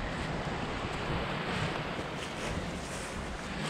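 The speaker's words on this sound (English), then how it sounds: "Nice mountain creek here." A mountain creek in a forest at the Swatara Forge site, its flowing water making a steady broadband rush mixed with wind noise, continuous and fairly loud throughout, with no one speaking.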